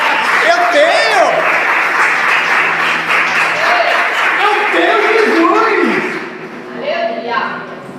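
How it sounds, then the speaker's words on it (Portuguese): A church congregation claps in a full, steady burst under excited voices and shouts, the clapping thinning near the end as talk continues. "Palmas para ele então."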